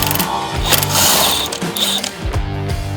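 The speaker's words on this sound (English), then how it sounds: "if we hit it with a 16 mil with an impact gun, it'll spin so fast that we won't even need the counter hold" An impact gun fitted with a 16 mm socket rattles in loud, rapid ratcheting bursts as it spins a nut off, with short pauses between the hammering runs.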